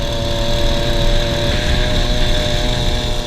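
Small motorized bicycle engine straining hard during a downhill top-speed run, a steady loud droning buzz with a constant pitch held throughout, close and continuous with no talking.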